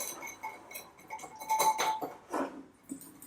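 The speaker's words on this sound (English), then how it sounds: "Now, we're going to mix this" A lemon juice dressing for tofu wraps being mixed in a bowl, with a utensil clinking and scraping against the dish in irregular, close-up taps and swishes.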